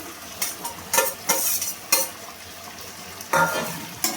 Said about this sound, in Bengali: আলু আর সোয়াবিনটা ভালোভাবে আমি কষিয়ে নেব মশলার সাথে।